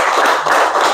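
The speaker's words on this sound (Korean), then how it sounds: "힘찬 박수로 환영해 주십시오" A forum audience at a political lecture claps loudly to welcome a speaker, a short dense burst of many hands that holds steady throughout.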